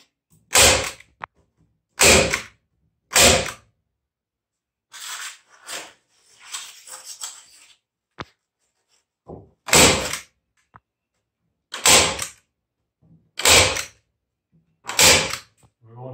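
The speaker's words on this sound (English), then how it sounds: "we're going to come back now with a staple gun" A staple gun fires into a Duravent panel in a cabin build, sharp loud snaps repeated roughly every second or two in two groups, with quieter handling noises in between.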